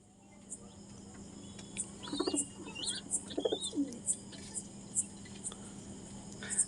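A seller's Kaldam pigeon, shown after being let out, gives soft coos among scattered chirps and small rustles, moderately close over a steady quiet background hum.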